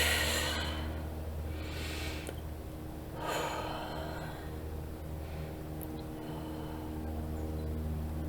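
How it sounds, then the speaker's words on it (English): Deep, slow breaths taken during a mindfulness exercise, two or three soft, airy inhales and exhales heard close and alone over a faint steady hum. "take 3 deep breaths."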